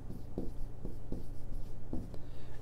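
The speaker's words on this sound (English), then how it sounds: "So let me write that down right here." Pen strokes as notes are handwritten during a calculus lesson on limits, a few short scratchy strokes at close range over a low background hum, with no talking.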